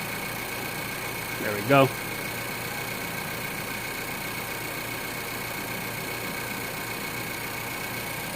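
A Nissan Pulsar 1.2 DIG-T petrol engine with its engine warning light on, idling with a steady, even hum throughout, while someone briefly speaks over it.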